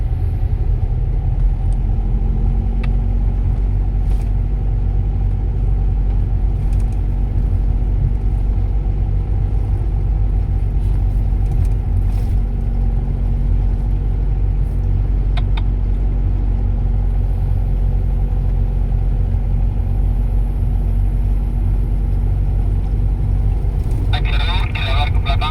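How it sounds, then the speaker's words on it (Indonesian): Large trucks idle and creep in a queue on the Trans-Sumatra road near Padang Sibusuk, a loud continuous low engine rumble heard from inside a vehicle, with people talking over it. "terjebak antrian mobil-mobil besar"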